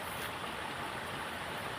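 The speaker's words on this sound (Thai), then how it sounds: "ด้วยน้ำไหลครับ" Water flowing steadily in a natural stream or channel in rural northeastern Thailand, a continuous broadband rush with no voices.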